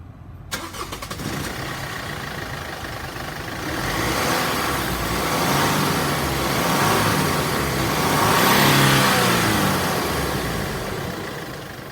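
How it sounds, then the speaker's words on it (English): A Mercedes Sprinter W906 van's OM651 diesel engine cranks and fires up, then runs steadily close by, swelling louder twice as it revs. "we're just going to start the car"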